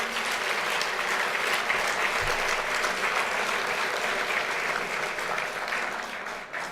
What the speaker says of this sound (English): an enthusiastic round of applause in gratitude, please, for this marvelous group of people